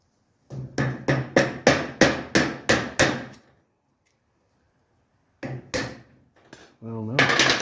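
A hammer strikes metal in a run of about eight sharp, ringing blows during a U-joint replacement, then after a pause a couple more hits, followed by a brief clatter; close and loud.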